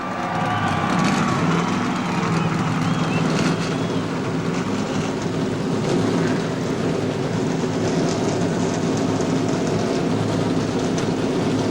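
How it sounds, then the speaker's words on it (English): NASCAR race car engines firing up together at the 1996 Busch Clash, a dense, loud roar of many engines rumbling and revving continuously throughout. "Gentlemen, start your engines."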